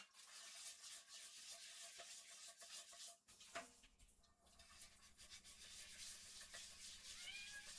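A pet cat trills and meows in short chirping bursts over soft indoor rustling and stirring noises, close by, with a brief quiet dip midway.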